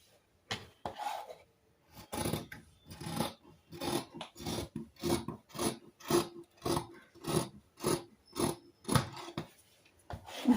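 Scissors cut through blouse fabric in a rhythmic series of about fifteen close, rasping snips, evenly spaced and clearly heard with no talk.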